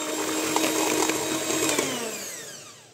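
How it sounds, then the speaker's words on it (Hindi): An electric whisk or hand blender beats kulfi mixture with powdered sugar in a bowl, a steady high whirring drone for about three seconds that fades slightly toward the end, with no talking. "तो चलिए इसको भी फेंट लेते हैं, मिक्स कर लेते हैं सभी चीज़ों को।"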